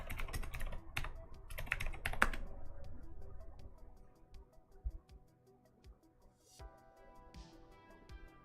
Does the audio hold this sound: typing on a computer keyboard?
yes